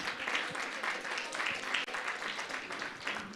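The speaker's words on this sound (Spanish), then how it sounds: "Así que vamos a aplaudir mucho" A church congregation at a Mother's Day service applauds steadily, a soft, even wash of many hands clapping heard at a distance for a few seconds.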